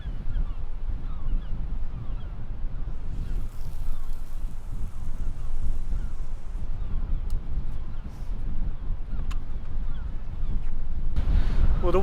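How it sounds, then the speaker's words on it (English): Wind gusting across a seaside pier makes a continuous low rumbling buffet, with occasional faint distant honks over it. "the wind is really cutting across"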